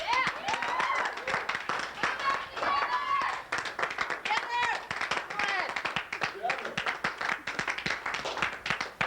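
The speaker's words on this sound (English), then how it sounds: "Show of applause. Who would like to see them back together?" Studio audience clapping and cheering for a show-of-applause vote on a remote comedy segment, lively and uneven with voices calling out over the clapping.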